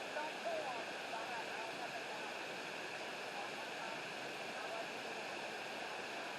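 A distant waterfall rushes steadily in an outdoor setting as a faint, continuous broadband roar, while people talk quietly in the background.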